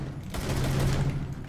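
Weapon fire in the tactical shooter Rainbow Six Siege, a dense sustained burst of gunfire heard up close and loud for over a second, with no talk over it.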